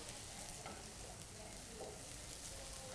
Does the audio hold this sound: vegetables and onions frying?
yes